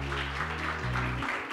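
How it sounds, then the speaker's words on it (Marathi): A church congregation claps in thanks during a Sunday service, a soft, even patter of hands under sustained organ or keyboard chords that shift in steps. "टाळ्या वाजून देवाला धन्यवाद देऊया"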